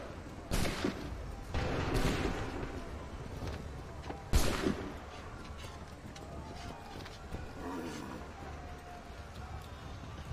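Musket volleys crackle in Assassin's Creed III, with several broad, sharp blasts in quick succession over a constant rumbling battlefield din.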